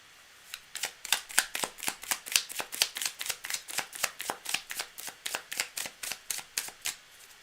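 Tarot cards are shuffled in a steady, rapid rhythm, around two dozen crisp riffling bursts close up, with no talking.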